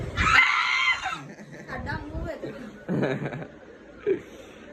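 Several people scream together in joy at a family gathering celebrating the end of exams, a loud burst at the start followed by laughter and chatter.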